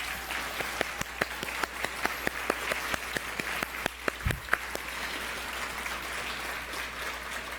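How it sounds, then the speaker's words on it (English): Attendees at an Amnesty annual general meeting awards dinner give a round of applause, a steady bed of crowd clapping with sharp individual claps standing out nearby, sustained across the moment. "I want you to give a big round of applause for these people"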